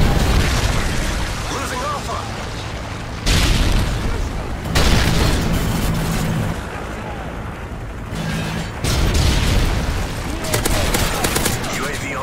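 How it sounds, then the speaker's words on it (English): Repeated heavy booms and explosions from missile strikes in a military video game, loud and dense with gunfire-like crackle, under a player's talk throughout. "Friendly Predator missile inbound."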